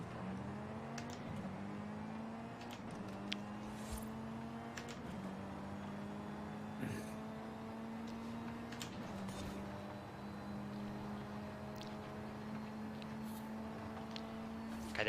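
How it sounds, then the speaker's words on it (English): Car engine in the Forza Horizon 5 racing game: a steady, droning engine whine that holds a roughly constant pitch with small shifts, continuous and moderately loud, no talking. "So the engine noise of this car is the same from 30 to 104."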